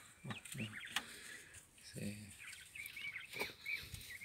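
Quails kept on a farm give soft, high chirps and clucking calls, scattered and fairly faint throughout, with a person's voice heard briefly among them.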